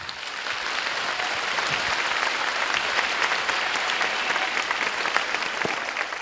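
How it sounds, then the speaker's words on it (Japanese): Sustained applause from a large lecture audience fills the hall at a steady, dense level from start to finish, with no voices rising above the clapping. "今一度大きな拍手をお願いいたします"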